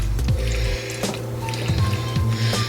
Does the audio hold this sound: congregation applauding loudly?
no